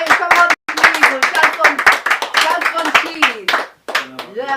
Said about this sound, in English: let's have a big hand of applause for Barry